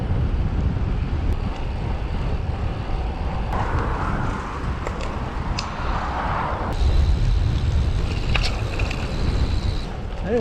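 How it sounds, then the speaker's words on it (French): A headwind during a long road bike ride rumbles steadily across the microphone as low, continuous buffeting, with faint mechanical clicks and a passing hum mixed in. "J'ai un vent de face."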